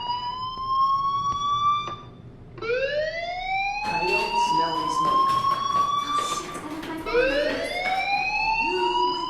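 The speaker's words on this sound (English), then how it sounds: "Hey, do you hear that fire alarm?" A fire alarm blares inside the video game Life is Strange, a series of rising electronic whoops repeating in loud bursts with brief gaps, with background game ambience underneath.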